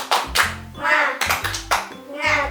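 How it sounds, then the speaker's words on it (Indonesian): A primary school class doing the rhythmic 'tepuk semangat' clapping chant: bursts of group hand claps alternating with children's chanting voices in a quick, patterned rhythm. "kita akan melakukan tepuk semangat"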